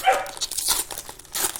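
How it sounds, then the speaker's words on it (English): A puppy barks in the background of an indoor room, a few quick, sharp yaps in short bursts, moderately loud and close. "The puppy's barking in the background."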